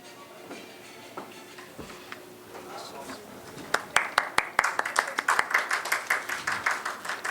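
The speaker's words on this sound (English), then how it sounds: "Please keep the applaud going." Applause at a healthcare awards ceremony in Delhi, starting with murmuring and a few scattered claps, then swelling over the last few seconds into steady, fairly close clapping.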